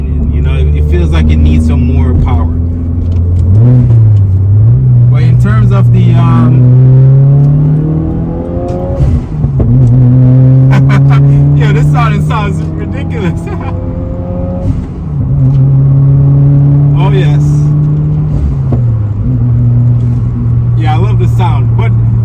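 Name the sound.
Subaru WRX engine revving while driving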